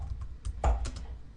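Keys clatter on a computer keyboard in quick, uneven bursts as a student types into a freshly renamed document, with one louder cluster of strokes mid-way and no talking.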